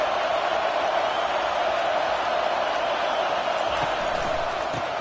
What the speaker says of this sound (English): This offense trying to quieten the crowd on 1st and goal